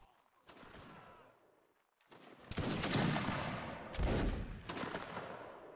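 Musket volleys crack out in a Napoleonic line battle video game, ragged bursts of many shots layered into a loud rolling fusillade with echoing tails, fading and then swelling again.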